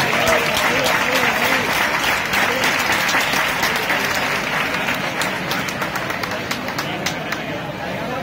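Outdoor audience clapping for a winning artist at a quick-painting contest award ceremony in front of a town hall: dense, even applause with some background chatter, loud at first and easing slightly toward the end.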